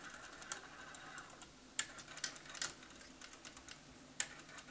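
A TRS-80 CGP-115 pen plotter clicks while drawing text, with sparse sharp ticks and a few louder clusters over a faint background hiss, close and fairly quiet.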